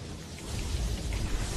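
Rumbling thunder with rain from the video game The Ball, a broad steady low roar filling the short stretch without any talk.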